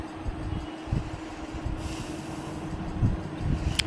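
Low rumble and rattling clatter from inside a moving train carriage, steady rolling noise with irregular thumps and a brief higher screech near the end.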